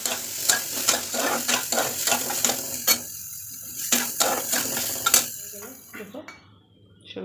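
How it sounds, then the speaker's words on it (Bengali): Soybean chunks fry in a pan with sizzling and stirring clatter, utensil scrapes and knocks recurring through most of the stretch before it quiets near the end. "চলো এখন আমি সোয়াবিনগুলো ভাজা করে নিই ঝটপট করে"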